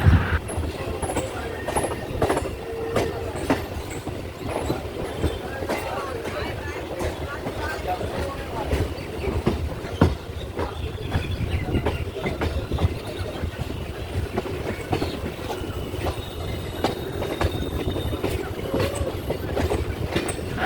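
A train pulls out of Bandel Junction bound for Naihati Junction in India, its wheels clattering steadily on the rails with loud rumbling and scattered clanks throughout, mixed with faint background voices.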